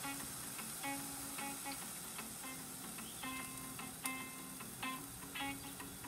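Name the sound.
sauteing vegetables in a pan for fried rice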